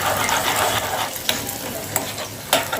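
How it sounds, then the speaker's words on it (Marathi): Finely chopped cashews and almonds fry in ghee, giving a bright, crackling sizzle close by, broken by several quick stirring scrapes. "इथे जे काजू बदाम मी बारीक केलेले आहेत ना ते आपल्याला तुपामध्ये फ्राय करायचे आहे"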